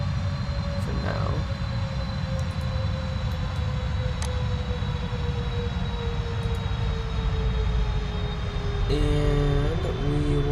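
Boeing 777-200LR jet engines in the Prepar3D flight simulator, a steady loud drone with a slowly falling whine that runs the whole time, with a brief clicky tonal burst near the end.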